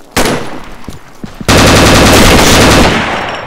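Gunfire in the shooter Combat Arms: a few loud single shots first, then a sustained burst of rapid machine-gun fire that runs close and harsh for over a second before trailing off.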